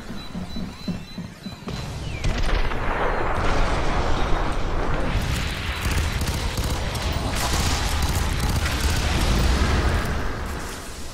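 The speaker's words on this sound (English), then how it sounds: "Explosions." Explosions and heavy gunfire from the first-person shooter F.E.A.R. 3 crash out loudly and continuously for about nine seconds after a quieter opening, a dense, roaring barrage of blasts and debris.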